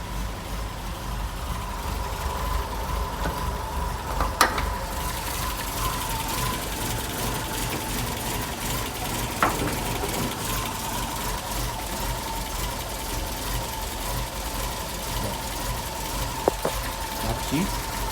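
A cold car engine idles and shakes with a steady low rumble, a constant drone broken by a few sharp ticks and knocks. The sound is continuous and close, with no talk.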